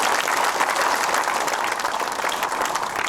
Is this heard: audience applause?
yes